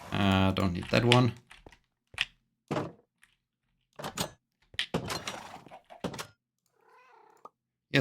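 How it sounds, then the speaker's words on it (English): A domestic cat meows close to the microphone, a few short meows scattered among quiet gaps, with a person talking in between. "Yes, cat. I know you're happy to see me again."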